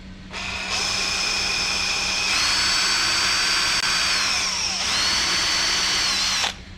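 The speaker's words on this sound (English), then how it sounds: "Get these marked up and drilled" A power drill bores holes in a subwoofer box for Pioneer subs, one long close whirring run that shifts pitch partway and stops abruptly, with no talking.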